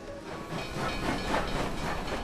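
A steam train running along the track, a steady broadband rumble and hiss with faint rhythmic rail clatter, fairly close and continuous throughout, with no talking.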